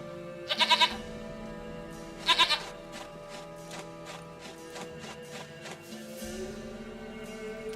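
Goats in The Witcher 3: Wild Hunt give two short, loud, wavering bleats a couple of seconds apart, followed by low in-game ambience and faint hoof-like clatter.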